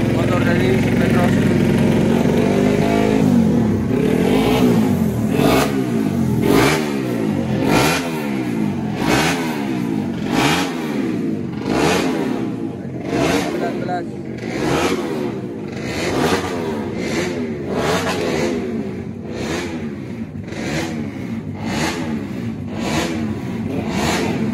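Racing motorcycle engine in a paddock at a Motoprix regional final in Tasikmalaya, revved hard in a long series of sharp, rhythmic throttle blips close by, with voices talking underneath.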